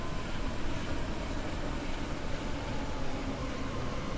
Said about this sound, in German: Ja, Tatsache, noch eine S-Bahn.